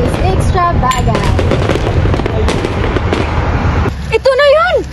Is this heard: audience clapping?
no